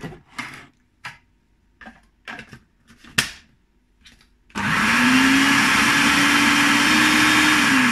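Several light taps and clicks of setup, then a kitchen blender bursts on loudly, whizzing peanut butter cream pie ingredients with a steady, high motor whine that holds to the end.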